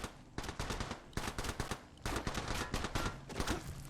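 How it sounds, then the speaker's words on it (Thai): Chaotic shooter-game gunfire: rapid, continuous automatic bursts crackle loud and close for the whole stretch, with hardly a pause between volleys. "เป็นการยิงที่วุ่นวายจังเลยฮะ"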